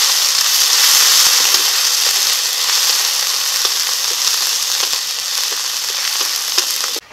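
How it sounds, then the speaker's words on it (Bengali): Cumin, ginger paste and chili paste fry in oil with whole cumin and bay leaf for a prawn and pumpkin curry, a loud dense sizzle crackling steadily with faint stirring. "এখন মশলাটাকে ভেজে নেব"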